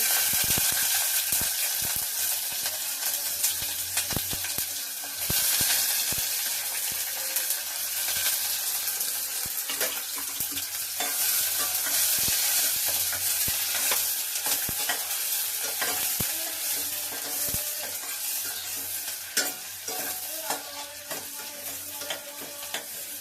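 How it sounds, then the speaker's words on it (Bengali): Bay leaf, green chilli and chopped onion fry in a pan, giving a steady close sizzle with frequent scraping stirs and clicks throughout, without any voices. "তেজপাতা দিলাম, কাঁচা লঙ্কা, পেঁয়াজ কাটা"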